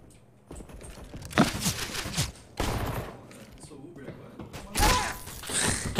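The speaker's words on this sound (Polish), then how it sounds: "za chwilę będzie słychać te pierwsze strzały" Rapid gunfire bursts from the video game Counter-Strike: Global Offensive crackle in clusters during a match, loud and sharp, interleaved with excited commentary talking over the action.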